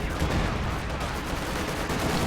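Sustained gunfire crackles without pause in a WWII real-time strategy game, a single machine gun position firing steadily amid a dense, continuous battle din of distant shots.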